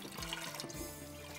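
Water is poured off soaked sella rice in a home kitchen, a short splashing gush followed by a lighter trickle, close and fairly quiet.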